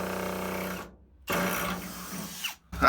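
A power drill spins a bigger drill bit in short on-off bursts, a close buzzing whir that cuts out briefly, restarts, and stops again.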